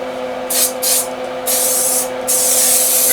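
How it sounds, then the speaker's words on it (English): Spray adhesive hisses from an aerosol can in steady bursts while glue is laid down for a Peterbilt truck door panel, loud and close, several short blasts followed by a longer continuous spray. "spray a boatload of glue way over there for no reason"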